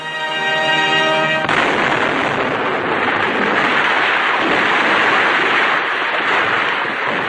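American troops blow up the Nazi party emblem at the end of World War II, setting off a loud explosion that bursts into a sustained roaring, crackling rumble lasting several seconds, heard in old archival sound.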